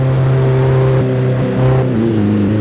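Car engine pulling hard in sixth gear in the Assetto Corsa racing game, a loud, steady drone whose pitch climbs gradually, with a brief dip mid-way, and no voices over it.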